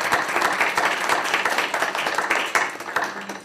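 Meeting attendees at a university board committee session give a short burst of applause, a dense, fairly close patter of clapping hands that holds steady for a few seconds.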